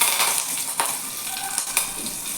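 Curry leaves sizzle in hot oil for tempering curd rice, a bright steady crackling hiss with a few sharp pops, close and alone.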